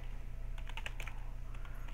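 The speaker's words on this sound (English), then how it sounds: "I cannot type today." A short, quick run of computer keyboard keystrokes clatters close by during Minecraft PvP play. It sits over a steady low hum, with no voice.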